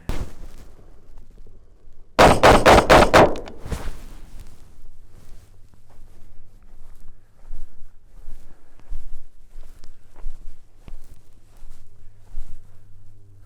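An AR-15 rifle fires a rapid string of about half a dozen loud, sharp shots in quick succession, followed by quieter rustling and movement.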